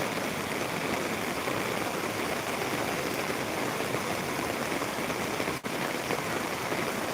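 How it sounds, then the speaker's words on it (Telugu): Steady, continuous rain falls evenly and close by as a dense, unbroken wash of drops with no pauses, apart from one momentary dip in the hiss near the end. "మనకు ఇప్పుడు స్థిరమైన వర్షం కురుస్తుంది ఒకే రకమైన వర్షం అయితే కురుస్తుంది"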